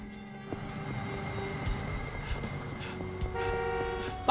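A car horn honks in the video game Yakuza 6 with steady, tonal blasts over a constant hum of street traffic, nearby and fairly loud. No one speaks.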